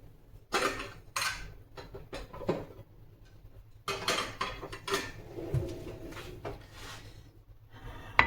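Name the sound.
barfi being put onto a plate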